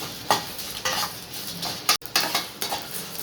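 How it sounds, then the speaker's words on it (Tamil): Chillies, cumin and pepper being dry-roasted in a pan, heard as a few scraping stirs and clinks of a utensil against metal, with a faint sizzle between strokes. "மிளகாய், சீரகம், மிளகு எல்லாம் போட்டு வறுத்துக்கலாம்."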